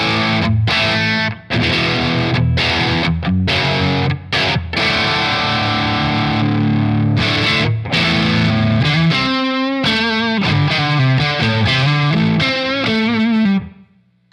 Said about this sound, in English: Distortion channel 1.